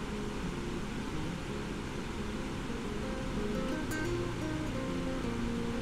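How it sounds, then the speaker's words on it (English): Rapids on a mountain river in the Swiss Alps rush in a steady, dense roar of churning water, unbroken and fairly close, with no voices. "Well, that is some proper rapids."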